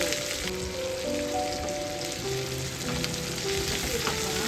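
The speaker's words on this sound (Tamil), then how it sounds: "ஒரு பேனில் தேவையான அளவு எண்ணெய் சேர்த்துட்டு காஞ்சவனா கடுகு, அப்புறம் பெரிய வெங்காயம் கட் பண்ணி சேர்க்குறேன்" Mustard seeds and sliced onions fry in hot oil in a pan for a drumstick kootu, a constant close sizzle with light crackling and stirring, no voices over it.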